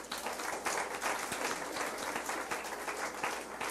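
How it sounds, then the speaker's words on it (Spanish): A church congregation applauding during a worship service: dense, steady clapping from many hands that fills the space evenly for a few seconds, with no voices over it. "De un aplauso al Señor."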